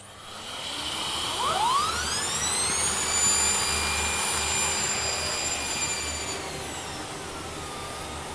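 A Libelle Lura robot cleaner running, a loud steady whooshing motor with rising whine tones that sweep up as it spins up, holding a constant airy hum throughout with no talk.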